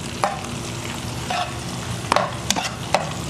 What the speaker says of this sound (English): it doesn't take long for soft shells to fry either